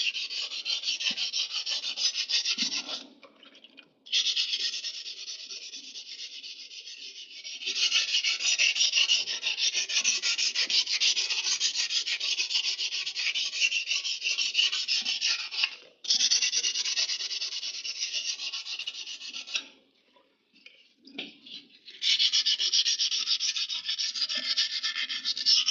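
Sandpaper on the rear differential center surface of a Toyota Land Cruiser HZJ75, a close, loud, continuous hiss of sanding in long steady stretches broken by a few short pauses.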